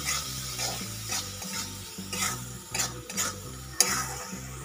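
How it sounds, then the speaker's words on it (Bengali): Spice masala stirred and sautéed in a pan with a splash of water for a bottle gourd and paneer dish, a spoon scraping in repeated strokes over a soft sizzle, with a brief clink of metal near the end. "এবার মশলাটাকে আমি একবার ভালো করে আমি এখানে কষিয়ে নিচ্ছি"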